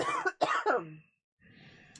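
A single cough, loud and close, with a throat-clearing rasp that fades into a quiet pause and then soft background noise.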